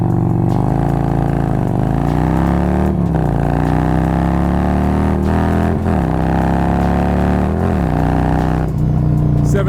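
A Harley-Davidson motorcycle with a newly installed clutch basket and clutch pulls away and climbs through the gears. Loud, close engine revs rise and drop at each shift, heard alone with no talk.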